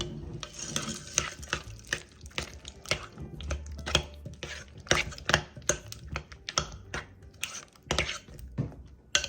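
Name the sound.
stirring melted white chocolate chips and sweetened condensed milk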